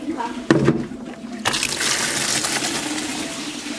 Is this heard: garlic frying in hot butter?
no